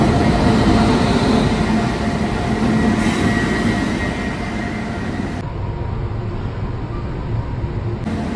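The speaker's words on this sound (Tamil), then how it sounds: "7:15 கரெக்டாக வந்துருச்சு ட்ரெயின் கரெக்டாக" Train pulling into a station on a long-distance rail journey, a continuous loud rumble of wheels and carriages with faint metallic squeal, steady throughout without speech.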